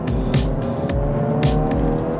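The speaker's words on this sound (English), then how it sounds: "It's not like an amazing sounding engine." Engine of a Honda Civic Si driving on a road, a steady continuous drone heard from inside the car, with rhythmic low pulses and no talk over it.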